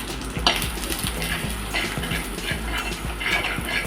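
Coarsely ground masala with curry leaves sautés in a pan for rasam, a soft sizzle under repeated light scraping and tapping of a spoon against the pan, close by.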